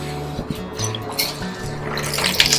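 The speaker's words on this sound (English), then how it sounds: "We will have to squeeze all that water out." Grated cauliflower squeezed by hand, letting water drip and trickle out in short wet spurts and splashes, close and moderately loud with no talking.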